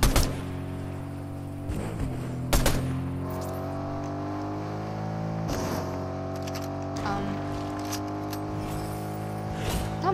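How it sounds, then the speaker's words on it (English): Gunfire in Fortnite Chapter 5 Season 4 rings out as several sharp cracks and short bursts over a steady engine-like drone, loud and close, with sporadic shots scattered through the clip. "They were shooting at me."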